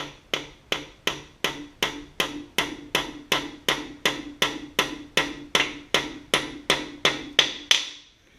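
Steady series of about seventeen sharp hammer blows driving a part onto the cap side of the engine block of a 1966 Ford Galaxie 500 during cam and crank installation, evenly spaced and close, with no talking.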